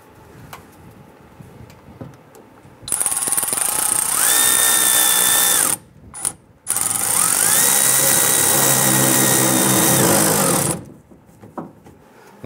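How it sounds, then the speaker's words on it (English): Power tool, likely a cordless drill or driver, tightening a hose clamp on the fuel filler neck of a 2002-2008 Dodge Ram 1500 pickup; two loud sustained whirring bursts, the second longer, separated by a brief pause, with no talk. "Secure the hose clamp."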